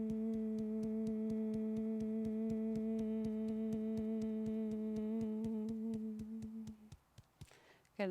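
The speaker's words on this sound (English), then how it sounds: "So starting with just a gentle hum." A steady, low, gentle hum held by one person during a relaxing yoga exercise, even and sustained for several seconds before fading, with soft rhythmic ticks throughout and a brief rustle at the end.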